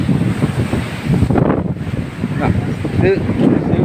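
Rough sea surges onto a coast during heavy sea erosion, a constant roaring wash of waves mixed with heavy wind buffeting the microphone, with people talking over it.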